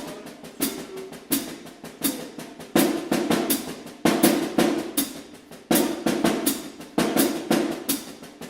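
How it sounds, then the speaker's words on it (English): A skidoo pattern is struck on a solo snare drum. Crisp hits fall in repeating rhythmic groups with small accents, close and fairly loud, with no voices over them. "I'm going to do the first example here, just on the snare drum"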